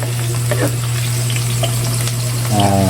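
Potatoes and carrots fry in hot oil in a pan, giving a loud, steady, close sizzle with light crackles throughout. A brief clink of a utensil comes near the end.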